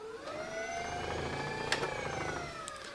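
An electric motor driven by an AliExpress controller at 84 volts spins at high speed, giving a steady, loud whine with rising and falling tones and a brief sharp peak partway through, nearby and without talk.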